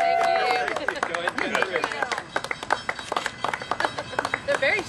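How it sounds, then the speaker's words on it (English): A small group applauds at a ribbon-cutting opening of a shop, scattered claps that grow denser and sharper toward the end, with people talking over them near the start. "we want to give a big round of applause"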